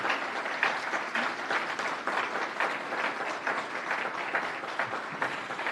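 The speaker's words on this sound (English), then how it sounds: "And now we may applaud the candidates." An audience at a city council candidate forum applauds the candidates, a continuous crowd of clapping hands, even and moderately loud across the whole span with no voices.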